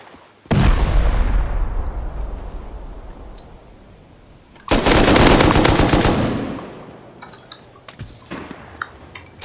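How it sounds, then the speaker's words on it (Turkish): Gunfire in the survival video game Rust: a long burst of automatic fire rings out and decays, then a second dense rapid volley follows a few seconds later, loud and close, with no talk over it. "Bir yerden sıkıyor da ne sıkıyor anlamadım."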